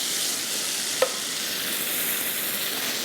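White chickpeas from a can sit in fried masala, which sizzles with a constant, even hiss. A single faint click cuts through it.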